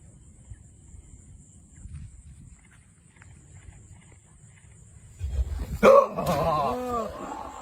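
A recorded dog barking sound, played outdoors to lure a giant crocodile out of the water, comes through in a few loud barks near the end after a stretch of quiet ambient noise.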